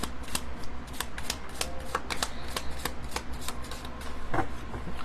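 Angel cards are shuffled for a card pull, giving a rapid, rhythmic series of close riffling snaps and soft slides that continue steadily throughout, with a slightly louder flick near the end and no voices.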